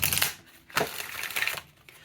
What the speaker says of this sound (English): with it being a 44-card deck, I do find that it's a nice amount of cards to riffle shuffle